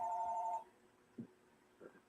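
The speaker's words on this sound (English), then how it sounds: "the house phone's ringing" A single short house landline telephone ring tone sounds at the start, followed by quiet with faint soft knocks.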